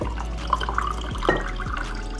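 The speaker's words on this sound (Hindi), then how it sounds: "इसके अंदर हम भर लेंगे पानी।" Water poured into a one-litre bottle holding a spoonful of chia seeds and mint leaves, heard as a close, fairly loud trickle with small splashes and drips, without any talk.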